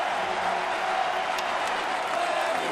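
A packed stadium crowd at the 2019 MLB Home Run Derby roars in a steady, dense wash of cheering and whoops, loud and continuous throughout with no clear breaks.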